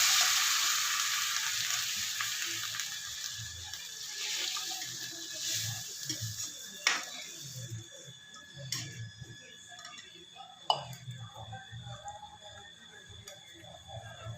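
Tamarind water sizzling in a hot pan with cooked brinjal, a steady soft frying hiss that fades gradually, with a few sharp clicks and light stirring taps.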